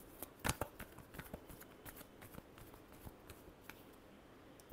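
A deck of tarot cards is shuffled softly and close by, with a few sharper flicks early on and then a run of light, irregular riffles fading into a quiet rustle, with no voices.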